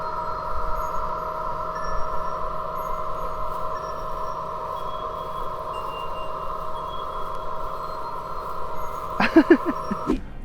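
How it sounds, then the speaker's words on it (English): An electric car plays a reversing warning that sounds like wind chimes, a soft steady tonal chime under a quiet background hum, with a brief cluster of louder chiming notes near the end. "This one though sounds like wind chimes."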